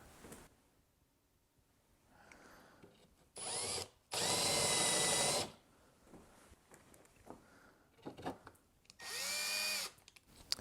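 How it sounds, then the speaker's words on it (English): A power drill countersinks a screw hole during restoration work on an Altec Valencia 846B speaker cabinet, with three loud bursts of whirring: a short one, a longer sustained run, then a brief spin-up and a final steady burst, with quiet handling noises between. "So I'm going to try to countersink it a little bit more."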